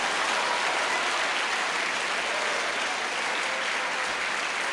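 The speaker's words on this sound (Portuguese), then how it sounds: "Vamos aplaudir o Senhor por essa palavra revelada?" A church congregation bursts into sustained, dense applause during a service, many hands clapping steadily together with no voices on top.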